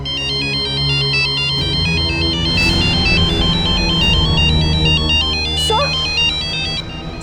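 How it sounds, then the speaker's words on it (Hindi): A mobile phone plays a repeating electronic ringtone melody, loud and continuous, over a low background hum with a faint voice near the end. "सर ये उसी का फोन है।"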